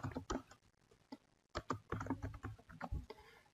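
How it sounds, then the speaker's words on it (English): Quiet, close clicks from a computer keyboard come in short irregular bursts with brief gaps, typing a name into a sketching software tool, with no talking. "I type in the name"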